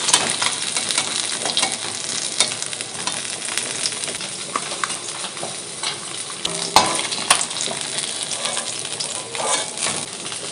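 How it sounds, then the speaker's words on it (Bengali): Parshe fish fry in hot oil in a pan, a crackling, spattering sizzle close up with repeated scraping and clinking of a spatula stirring, continuous throughout. "মাছগুলো ভাজা হয়ে গেছে, তুলে নেব।"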